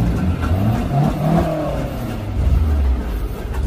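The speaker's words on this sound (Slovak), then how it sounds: "Niektoré auta už odchádzajú." Cars leave a car meet, with mid-pitched engines revving and accelerating past at moderate distance, the sound swelling and fading over steady outdoor noise.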